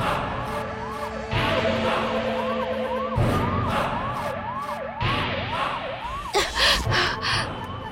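A police siren wails in repeated rising and falling sweeps, loud and near, with vehicle noise underneath and a brief voice near the end.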